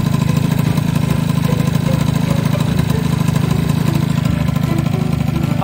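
A Honda Super Dio ZX scooter with a bored-up 71cc engine, lightweight cooling fan and adjusted main and pilot jets idles nearby with a steady, loud, buzzing putter that never rises or drops.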